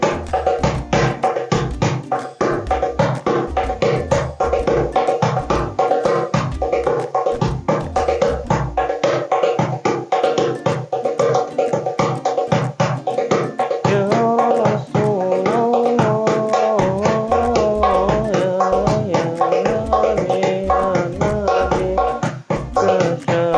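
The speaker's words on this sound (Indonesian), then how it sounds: "Nah, jadi itu untuk suara dari darbuka ini." A darbuka fitted with a black Powerbeat head, left untuned, is struck in fast continuous rhythmic patterns of deep tones and sharp slaps, close and loud throughout with no voices.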